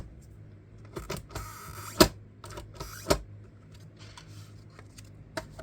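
Mini Cinch binding machine punching holes through a small stack of paper, a few sharp mechanical clunks and clacks spaced about a second apart, close and clear with light handling noise between them.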